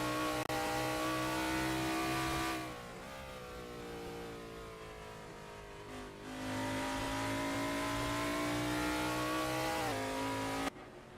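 A sprint car engine in a racing video game drones steadily on an out lap with harmonic revving, easing off around the third and sixth seconds and then rising again, before cutting out abruptly near the end.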